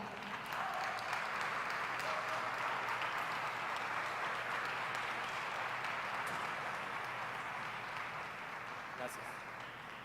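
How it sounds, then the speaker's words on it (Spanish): An audience at an impact event in northwest Argentina claps in a sustained, steady round of applause that fades slightly toward the end. "Un aplauso"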